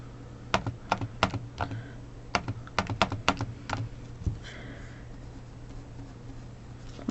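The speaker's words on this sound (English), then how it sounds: "typing that into the calculator" Numbers being typed into a calculator: crisp, close button taps in two quick bursts of presses with brief pauses between, over a steady low hum and no talking.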